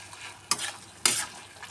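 Softened cabbage frying in a pan with chana dal curry ingredients, with two sharp bursts of stirring scrapes over a faint steady sizzle.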